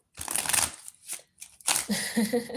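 A deck of tarot cards is shuffled by hand in two bursts of crisp riffling and flicking, close and fairly loud, with a short pause between bursts and no talking.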